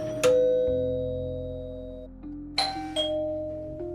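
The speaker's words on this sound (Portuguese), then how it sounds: "alguém tocou a campainha" Doorbell used as a sound effect in a horror story narration, a loud ding-dong chime that rings, decays, then sounds again twice in quick succession, close and alone.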